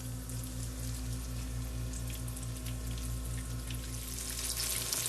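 Green tomatoes dipped in buttermilk fry in a pan with a steady, dense crackling sizzle, continuous and close under a low electrical hum.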